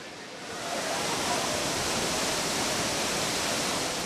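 Namaste waterfall in Dhankuta pours as a dense, even hiss of falling water that swells in over the first half second and then holds steady and loud, with no voices.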